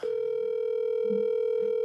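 A telephone dial tone hums steadily and loudly during a call, an unbroken electronic tone with faint background noise underneath.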